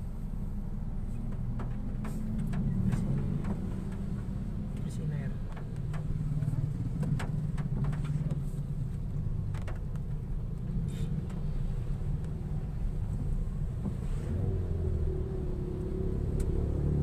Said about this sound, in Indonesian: Serang Cilegon macet parah